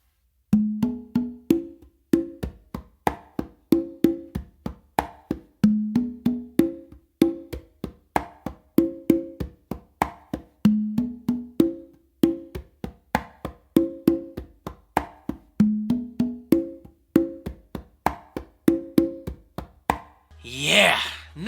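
Funk melody tumbao played on congas by hand, a steady repeating pattern of open tones and slaps with crisp, close strikes alone throughout, ending in a brief noisy flourish.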